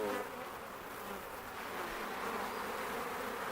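A loud, close mass of honey bees drones steadily after being shaken from a hive frame into a box while a colony is split. There is a short dip at the start, then the buzzing holds an even level throughout.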